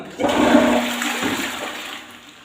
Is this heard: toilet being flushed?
yes